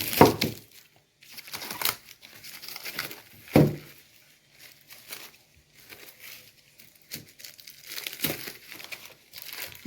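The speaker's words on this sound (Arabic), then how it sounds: "هنفتح برضو الاسترتش ده عشان نشوف اللون ايه" Plastic stretch wrap on a package of Egyptian cow butter being pulled open, with several sharp crinkling bursts and tears separated by quieter rustling, close up and without talk.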